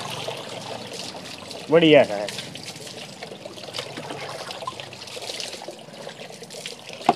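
Water trickles and splashes as it is poured over a Labrador during a bath, a steady soft flow under nearby talking, with one louder splash near the start.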